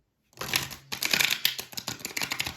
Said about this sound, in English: I have such a hard time shuffling these cards on a little tiny corner of my table.